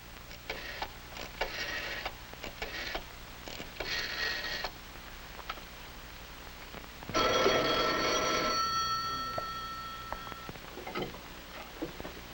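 A telephone bell rings in one loud, sustained burst indoors, standing out after a stretch of quieter clicks and faint room sounds.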